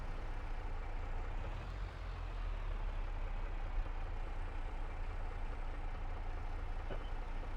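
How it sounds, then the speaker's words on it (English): A tractor engine in Farming Simulator 22 drones in a steady, low, continuous rumble close by, with no clear changes in pitch. "So we're going to get on our tractor here."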